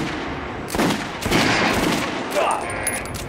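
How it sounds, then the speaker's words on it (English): Gunshots fire at a training dummy in Metro: Last Light Redux, a few loud, close cracks in quick succession over a background of game ambience. "Try shooting from the center of the regular dummy."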